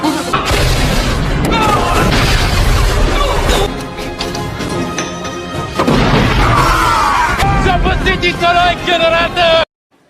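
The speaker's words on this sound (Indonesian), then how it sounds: "Pada baku tembak tersebut, Rambo terluka di bagian samping perut" Heavy gunfire and explosions from a battle at a Russian fortress in a Rambo action film, loud and dense booms with crashing debris and a music score over the whole clip, cutting off abruptly near the end.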